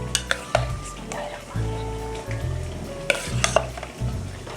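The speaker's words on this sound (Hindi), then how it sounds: "अब हम इसमें बॉईल की हुई चने की दाल ऐड कर देंगे" Boiled chana dal is tipped into frying mutton and stirred, with bursts of sizzling, spoon scrapes and metallic clinks against the pot in an uneven rhythm, heard close.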